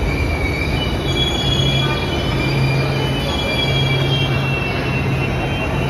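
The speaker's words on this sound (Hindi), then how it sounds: "देखिए हम लोग की ट्रेन आ गई है" A train pulls into a station platform in the Netherlands, its wheels squealing and rumbling in a dense, continuous roar close by.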